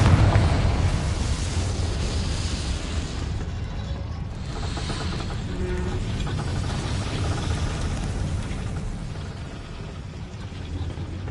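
A spell explosion in Hogwarts Legacy erupts with a heavy boom and crackling blast, followed by a sustained rumbling roar and debris-like clatter that stays loud throughout with no speech.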